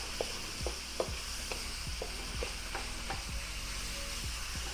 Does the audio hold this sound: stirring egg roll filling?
yes